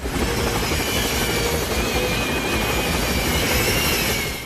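Helicopter rotor noise and a passing train in a Mission Impossible chase scene, a dense, loud, steady roar of engine and wind filling the whole clip without any voices.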